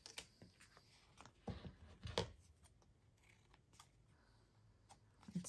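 Scissors trim excess paper off a card during a collage craft, with a few quiet, crisp snips and rustles scattered through otherwise near-silent surroundings.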